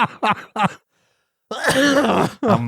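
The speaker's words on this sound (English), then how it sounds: "I'm glad you're coughing your lungs up on that." Several harsh, rasping coughs up close, a short pause, then a longer hacking, throat-clearing fit with one more cough after.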